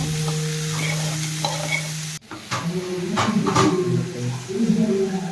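Grated paneer frying in butter in a pan, with a low hum at first and then a sharp cut to close sizzling and stirring scrapes that grow louder toward the end, no voices.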